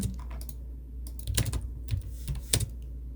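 Fingers type on a computer keyboard while entering CAD shortcut commands, with irregular clusters of sharp nearby key clicks and a few louder presses, like the space bar, spread between brief pauses.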